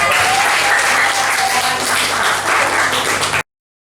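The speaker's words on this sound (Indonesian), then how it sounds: "Tepuk tangan." Sustained applause from a classroom group, steady and fairly loud for a few seconds, then cutting off abruptly.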